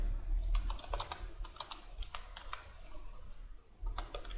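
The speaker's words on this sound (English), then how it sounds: "So let us type in input field" Bursts of quick clicks from a computer keyboard being typed on, fairly close, with pauses between short runs over a low background hum.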